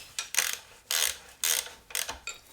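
A 27 thin-wall socket on a ratchet tightens the gearbox lock nut during a BMW R80 custom build, four close, distinct bursts of ratcheting clicks separated by short pauses.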